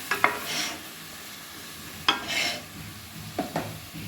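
Mutton pieces dropped into a heated, dry pressure cooker with no oil, giving three short sizzling bursts with quiet pauses between them, close and moderately loud.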